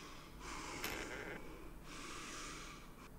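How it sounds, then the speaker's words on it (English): A protagonist in the horror video game LUCY breathes heavily in a creepy situation, two long, breathy exhalations with a short sharp intake between, close and fairly quiet. "I don't like how my protagonist is breathing"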